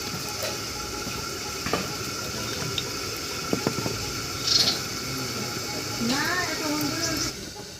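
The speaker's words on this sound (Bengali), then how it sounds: "এবার এই মশলা বাটার মধ্যে দেব সামান্য একটু কাঁচা সর্ষের তেল আর একটু জল" Water poured into ground spice paste mixed with raw mustard oil gives a brief close gurgle and trickle near the end, after quiet scattered clinks and faint kitchen background.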